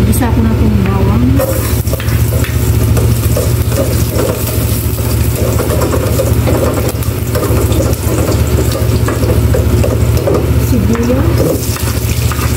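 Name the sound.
garlic sautéing in cooking oil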